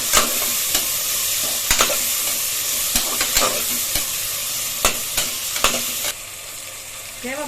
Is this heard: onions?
yes